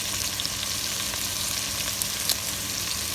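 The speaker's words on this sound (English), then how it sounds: "I hear that butternut sauce just a sauteing over there." Butternut squash sauteing in a pan alongside garlic for a tomato and butternut squash soup, giving a steady, even sizzle throughout with faint crackles and no talking.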